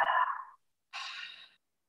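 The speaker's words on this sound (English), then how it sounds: "3 deep breaths" Two slow, deep breaths, an inhale then an exhale, close and fairly loud, each lasting about half a second with a brief pause between and no talking.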